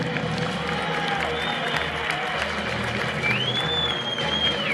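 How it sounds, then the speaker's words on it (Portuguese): Crowd at an Air Force Academy 60th anniversary air show clapping and cheering outdoors after an F/A-18 Super Hornet demonstration, steady applause with a whistling tone rising over it and a public-address hum underneath. "Quem gostou, aplaude que eu quero ouvir."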